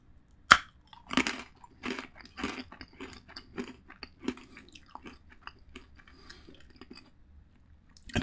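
Crunchy dill pickle pretzel pieces are chewed close up, giving sharp, repeated bites and crisp crunches in an irregular rhythm, clear and alone with no talk.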